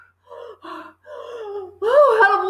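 A reader's voice imitates a series of strangled gasps from a horrified woman, voiced in several short breathy bursts that rise into a louder, strained final gasp.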